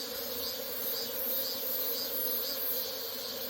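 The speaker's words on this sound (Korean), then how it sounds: "벌써 말벌 우는 거 봐라." A steady, high hornet buzz drones on throughout, close and continuous, with a faint whirring pulse of hornets hovering near native honeybee hives.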